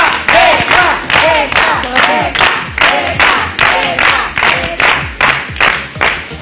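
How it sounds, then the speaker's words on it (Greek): Studio crowd at a Cypriot TV dance competition cheering and clapping in a dense, loud wave, with rhythmic pulses and some shouted voices throughout. "να τους δώσουμε ένα πάρα πολύ δυνατό χειροκρότημα"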